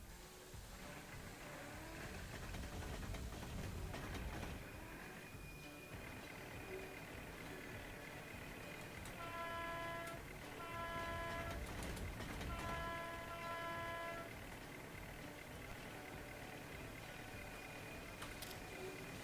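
An On30 model train with a rail bus runs on a layout, giving a steady rolling rumble with a few short horn toots in the middle, moderately quiet and without talk.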